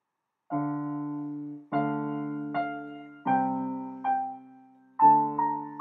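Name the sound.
piano playing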